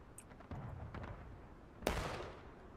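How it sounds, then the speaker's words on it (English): Distant artillery in the Civil War video game War of Rights, a muffled rumble of booms topped by one sharper blast, fairly faint overall. "Ooh, nice artillery hits right into 42nd over here."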